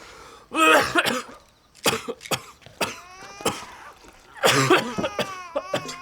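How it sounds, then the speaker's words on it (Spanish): A person coughs in several harsh bursts after days of illness, with throat clearing between fits, close and fairly loud with short pauses. "Dices que estás bien, pero llevas días tosiendo."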